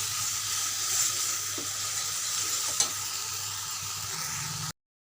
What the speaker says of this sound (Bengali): মশলাটা কষিয়ে নিচ্ছি ভালো করে, যে পোস্ত সর্ষে লঙ্কাটা দিয়েছিলাম,